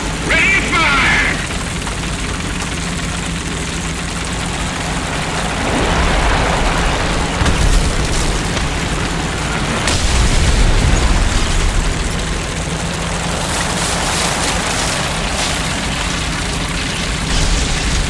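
In War Thunder, a Chieftain Mk.10 tank's cannon fires and shells explode. Several heavy booming blasts land amid a constant rumble of engine and battle noise, moderately loud and spread across the stretch.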